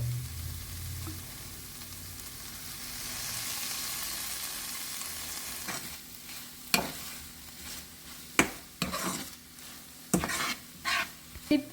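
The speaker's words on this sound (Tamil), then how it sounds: "சில்லி பேஸ்ட் எல்லாம் போட்டு நல்லா வதக்கிட்டோம்." Chili paste and soy sauce sautéing in a pan for Sri Lankan style seafood nasi goreng, starting as a soft steady sizzle, then punctuated by repeated sharp scrapes and clinks of stirring.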